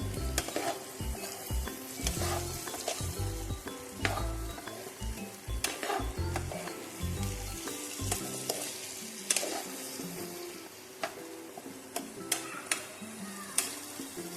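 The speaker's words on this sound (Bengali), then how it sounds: "মশলাটা মানে এঁচড় আর আলুর সাথে ভালো করে মশলাটা কিন্তু কষিয়ে নিতে হবে।" Jackfruit and potato are stirred and fried with spices, giving a continuous sizzle under repeated close scraping and knocking of a spatula on the pan, busy at first and then sparser taps, with no speech.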